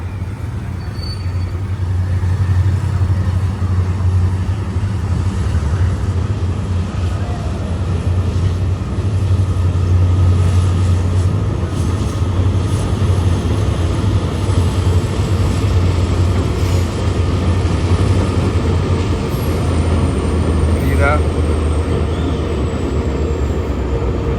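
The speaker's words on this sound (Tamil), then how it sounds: "இப்போ ட்ரெயின் வந்து பாலத்தில் கடந்து வரக்கூடிய காட்சியை பார்க்குறீங்க" A train crosses the Pamban bridge with a long, steady low rumble and a droning engine hum that continues unbroken for over twenty seconds, fairly loud and even.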